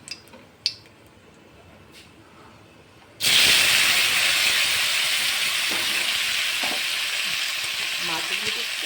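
Fish pieces for a gang morola fish dish hit hot oil in a pan with a sudden loud, sustained sizzle and hiss that stays strong and steady after a few quiet clinks of cookware.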